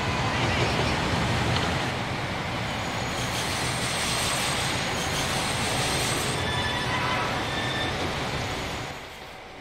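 Train running along a rough railway line in a British rail simulation game, a continuous loud rumble and hiss of wheels on track with faint high squealing, steady throughout before easing slightly at the end.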